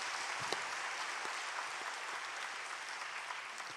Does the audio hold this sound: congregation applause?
yes